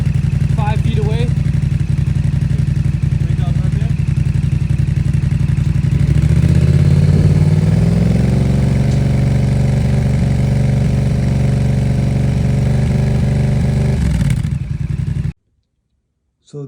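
A 2022 Yamaha R7 motorcycle fitted with an M4 exhaust idles steadily from about five feet away, then revs up in a rising swell and settles back before cutting off abruptly near the end.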